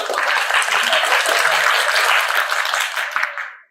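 A group of kids claps together during a classroom warm-up, a dense burst of many hands that stays steady for over three seconds before cutting off abruptly.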